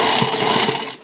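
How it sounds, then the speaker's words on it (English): A sewing machine runs steadily, stitching the armhole seam on a girl's peasant dress, a close continuous mechanical whir with a faint rhythmic pulse that stops abruptly near the end. "Now I'm going to sew just right along here on this one and right along here on this one."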